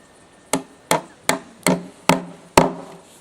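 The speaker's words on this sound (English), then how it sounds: "make sure they're properly bedded in using a hammer" Six sharp hammer blows, evenly spaced, drive galvanised 10mm cuphead bolts home through their holes, each strike a crisp metallic-wooden knock with a short ring, close and loud, with no talk.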